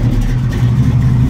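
A FiTech EFI engine catching on a cold early-morning start after fuel tuning gives a steady, loud, low rumbling idle with a slight wavering pulse, heard close up and alone.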